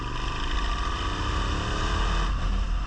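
A Suzuki SV650 motorcycle engine, restricted to 34 hp, revs loud and close, a steady throaty roar that holds high with a brief dip near the end.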